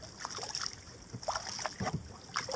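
A kayak is paddled on the Trent River, with soft, close dips and swishes of the paddle in the water, repeated every half second or so, over light wind.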